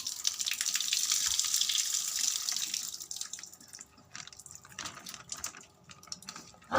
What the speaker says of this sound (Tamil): தண்ணி அப்படியே ஃபுல்லாக நம்ம ஊற்றிடலாம்.